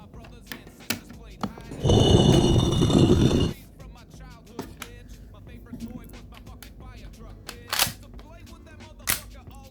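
A toy Desert Eagle pistol is fired in a string of sharp, loud cracks and clicks, several separate snaps spaced irregularly, with a burst of rustling handling noise in between and no speech.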